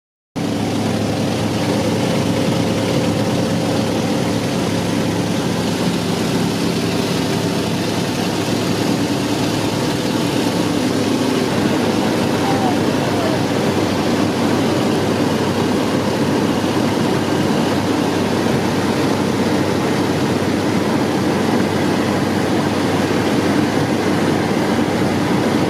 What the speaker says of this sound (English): caught our bush flight on this de Havilland otter that dates back to before 1968